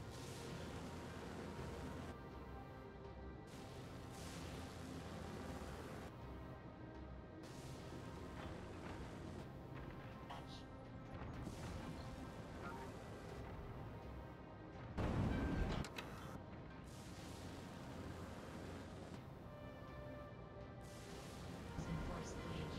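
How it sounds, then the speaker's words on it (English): Heavy mech cannon fire at a rock in the video game Vox Machinae: booming, explosive blasts repeat at a steady rhythm with rumbling reverberation, one louder crash standing out, over a layer of game sound. "press left click to fire at the rock"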